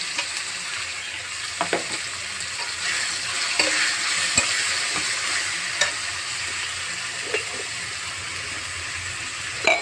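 Chopped tomato goes into gongura chicken frying with turmeric, under a steady loud sizzle and hiss, while a spoon scrapes and stirs with scattered knocks against the pan and no voices.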